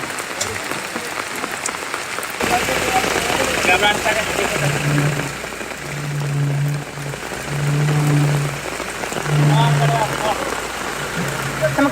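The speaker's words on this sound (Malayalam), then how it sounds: "ഇപ്പോഴും കോഴിക്കോട് ജില്ലയുടെ ഉൾപ്രദേശങ്ങളിലൊക്കെ കനത്ത മഴയാണ്" Heavy rain falling in the inland areas of Kozhikode district, a dense, loud, continuous hiss of drops on surfaces, with a voice talking over it in stretches.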